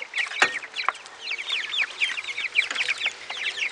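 Chickens and chicks peck at compound feed while clucking and cheeping continuously nearby, with a sharper squawk standing out early amid the busy chatter of the flock.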